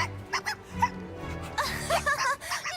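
A cartoon puppy gives a few short, high yipping barks, close and bright, mixed with brief giggly vocal sounds at a lively animated fair.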